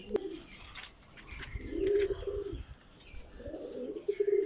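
Ram Puri pigeons coo nearby in three soft, low rolling calls with short gaps between, faint chirps and rustling in the background.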